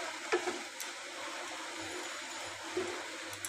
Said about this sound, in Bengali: এই কড়াইতে তেল দিয়ে দিলাম।